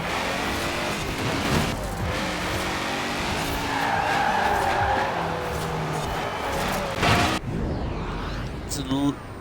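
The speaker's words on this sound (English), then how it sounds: "if you go a lot of wheel spin in first gear, then second gear helps prevent that" Porsche 356 RSR spinning its wheels in Forza Horizon 4: a loud continuous screech of tyre squeal over a rough engine roar, rising in intensity midway, then cutting abruptly near the end, with a voice talking over it.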